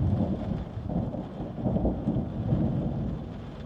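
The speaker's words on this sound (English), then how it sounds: "There's something calming about listening to rain bounce off glass" Steady heavy rain pelts glass on a spaceship observation deck overlooking a mountainside, with low rumbling thunder rolling continuously underneath, close and dense throughout.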